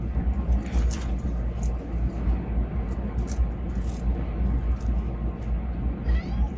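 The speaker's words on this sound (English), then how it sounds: "He's meowing at me quite a lot." A cat meows several times over a loud, rumbling engine-like background noise, the meows short and somewhat masked.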